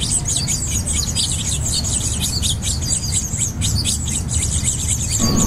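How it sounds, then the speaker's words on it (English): A family of finches chirps rapidly and continuously just outside a dining room window, with busy high tweets over a steady background hiss. "We've also been watching this family of finches right outside our dining room window."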